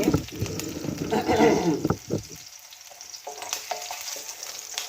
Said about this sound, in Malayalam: എണ്ണ ചൂടായപ്പോൾ ഞാൻ ഇഞ്ചി വെളുത്തുള്ളി പച്ചമുളക് ഇട്ടിട്ടുണ്ട്